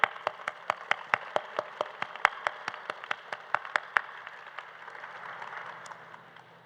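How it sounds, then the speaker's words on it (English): An audience at a college radiography, sonography and surgical technology pinning ceremony claps in a steady run of sharp, regular claps that fade into softer scattered applause. "So a big round of applause"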